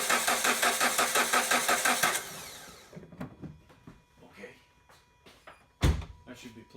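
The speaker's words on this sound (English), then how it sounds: "as the engine goes through its compression cycles" A car engine cranks on the starter during a relative compression test, pulsing evenly for about two seconds before cutting off, followed by a few scattered clunks and knocks.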